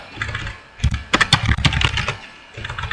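Rapid clicking of keys on a computer keyboard as code is typed for a Windows Store app, close and steady with short pauses between bursts, no voice over it.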